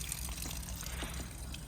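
Water draining from the boiler of a Burstner Ixeo motorhome, a steady low trickle and splash with a few faint drips, heard alone at a distance.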